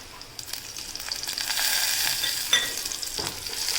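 Turmeric, garlic and green chilies sizzle in hot oil for a curd kadhi, making a close, rising fry hiss with a few stirring clinks and scrapes and no talking.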